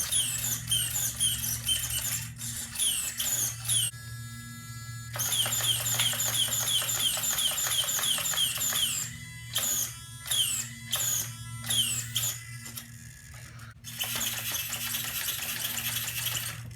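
Savox 1210 waterproof servo motor working in a TRX4 crawler, giving rapid whirring, buzzing sweeps with brief pauses, close and continuous over several seconds.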